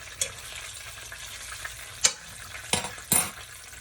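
Fried green tomatoes sizzle steadily in a pan, close and moderately loud, with a few sharp clatters and scrapes from flipping punctuating the crackle.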